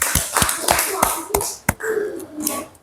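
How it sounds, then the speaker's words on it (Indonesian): A classroom of students claps, with several sharp, separate hand claps ringing out at an uneven rhythm and voices murmuring between them. "Tepuk tangan yang meriah."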